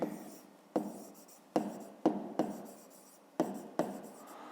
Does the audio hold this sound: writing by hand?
yes